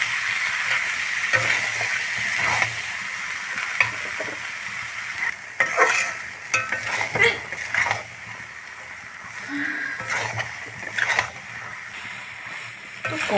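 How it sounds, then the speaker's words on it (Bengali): Chickpeas stir-fried in a wok for Bengali-style ghugni, made without potatoes, a soft steady sizzle broken by irregular scraping and stirring clatters close by. "কড়াইতে ছোলা আমার ভালোভাবে কষানো হয়ে গিয়েছে"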